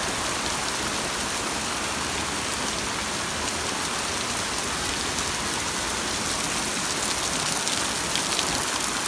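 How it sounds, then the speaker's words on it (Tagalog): Heavy rain pouring steadily onto outdoor tennis courts at the Palarong Pambansa 2026 games, a dense unbroken hiss of drops hitting the surface, loud and close with no talking. "ang lakas ng ulan."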